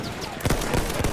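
A Mondragon sniper rifle fires in Battlefield 1, giving two or three quick, close shots in rapid succession over a steady background of game noise.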